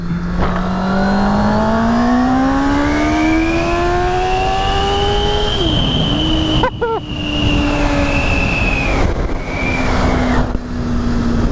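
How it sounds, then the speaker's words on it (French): A 2019 Honda CB650R motorcycle revs hard in first gear on a downhill, its loud, close engine whine climbing steadily in pitch, dipping briefly mid-way, then holding a high, sustained howl. "je vais pouvoir repasser un coup de première dans la descente, ça va hurler"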